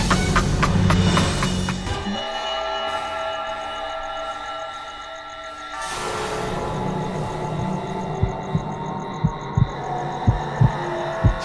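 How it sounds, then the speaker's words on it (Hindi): A mother's heartbeat sounds in a dark cave as a series of regular, loud, deep thumps near the end, following a dramatic hum and a rising whoosh. "मैं माँ के दिल की धड़कन को सुन सकती हूँ।"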